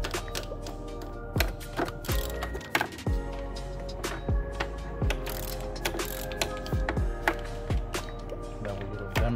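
Tool working loose tight bolts on the thermostat housing of a 2015 Chrysler 200: close, loud, rapid mechanical ratcheting and clattering with repeated sharp impacts at a steady rhythm.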